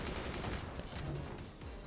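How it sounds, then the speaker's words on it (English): Continuous cannon fire from the video game Forts, a dense barrage of overlapping booming shots forming a steady rumbling roar with no break. "we're gonna be exchanging a lot of cannon fire"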